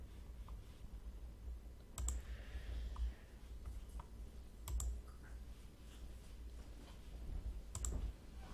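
Computer mouse clicks, a few sharp isolated clicks spaced seconds apart over a low steady hum, close and quiet.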